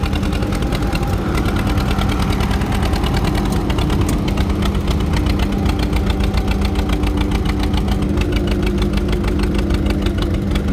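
An antique tractor engine at a county fair tractor pull putts and pops with a steady, loud running drone and irregular knocks, close by and without talk.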